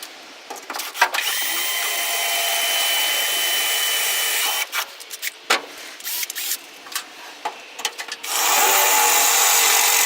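A blunt power drill boring holes into a car boot floor during a restoration, a loud continuous whine that breaks into stuttering bursts and short pauses midway before running steadily again.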